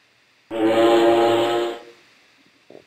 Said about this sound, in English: So every time you heard that horn,